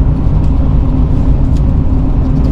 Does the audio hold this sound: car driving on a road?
yes